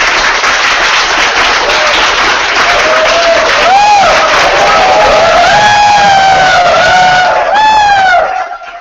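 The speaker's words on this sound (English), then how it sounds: "give them a huge round of applause" Dense audience applause and cheering at a startup pitch event, loud and sustained with a few rising whistles near the end before it drops away.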